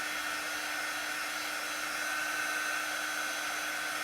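A hair dryer blows steadily to dry wet chalk paste on a double-sided craft surface, a constant, even whoosh with a fixed whine running unbroken throughout, alone with no talk.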